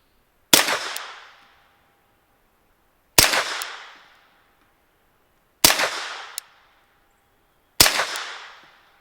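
Four suppressed gunshots from an Odessa 9 full-length suppressor, fired dry with supersonic rounds into dirt outdoors. Evenly spaced, loud sharp cracks each trail into a short decaying echo, with silence between.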